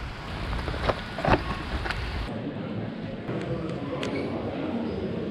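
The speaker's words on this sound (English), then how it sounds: "so it's raining again." Soft, steady rain patter outdoors in Vondelpark, Amsterdam, with light wind noise and occasional louder drops, fairly faint throughout.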